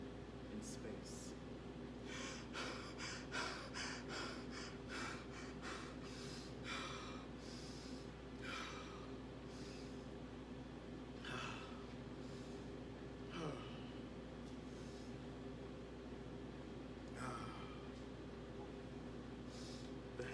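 Heavy breathing close up: a run of quick, sharp breaths early on, then slower, deep breaths with loud intakes spaced a couple of seconds apart.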